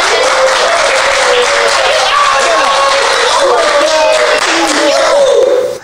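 Studio audience applause on a talk show, a sustained, loud clatter of clapping with hosts speaking and tonal voice traces running over it.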